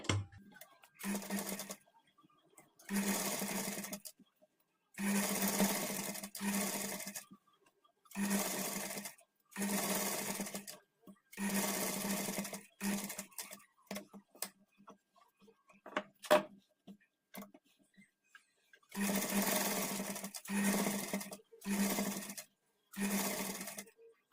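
A sewing machine top-stitches along the edge of a patchwork blouse back neck piece, running in repeated bursts of steady whirring stitches separated by short pauses, close and clear with no talking.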